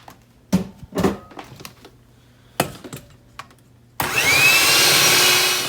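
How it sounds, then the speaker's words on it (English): An electric mixer beats two eggs with half a cup of salted butter. A few knocks and clinks come first, then the mixer starts loud and steady and whirs continuously to the end. "So I'm just going to mix that up quickly just to beat the eggs."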